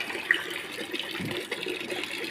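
Water rushes steadily into a guppy breeding tank being washed out, a continuous close splashing and gurgling flow with no voices over it.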